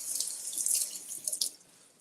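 Tap water runs into a kitchen sink while green onion stalks are rinsed under it, a close, hissing splash that shifts and spatters briefly before easing off.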